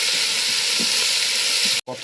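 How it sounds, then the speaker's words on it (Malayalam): Sliced onions and green chillies sauté in hot oil in a pan, a continuous close sizzle with faint stirring scrapes, cut off briefly near the end. "ഉള്ളി വഴറ്റിയെടുക്കുക"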